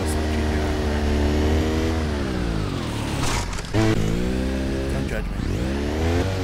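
Engine revving and a car driving in the PC multiplayer beta of Just Cause 2, with sustained, rising and falling engine tones and a brief dip midway, heard steadily beneath someone talking.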